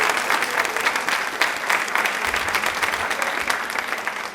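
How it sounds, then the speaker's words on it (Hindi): Loud, sustained audience clapping in a television quiz studio on a Women's Day special, a thick even wash of hands cheering for Rajasthan that carries on for several seconds with no talk over it. "तो एक बार राजस्थान के लिए तालियां जोरदार हो जाए।"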